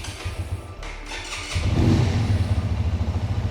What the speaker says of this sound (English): you can have it idling on the side stand, but if you start it up,